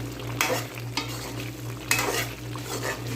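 Masala with red chilli frying in a pan for a chicken karahi, a steady close sizzle broken by a few sharp scrapes and clanks of the stirring spoon against the metal.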